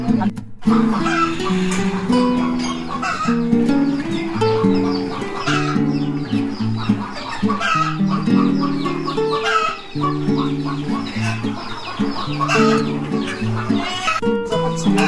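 Chickens cluck and a rooster crows at a poultry farm, the bird calls steady and close throughout, layered over a dense, busy background that may include music.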